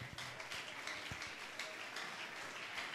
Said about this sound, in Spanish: Dale un aplauso fuerte al rey